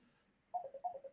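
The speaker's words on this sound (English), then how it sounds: "Sorry, I'm ringing. I don't know how to turn it off here." A phone rings faintly with a short electronic warbling pattern of repeated two-tone beeps that starts partway through after near silence.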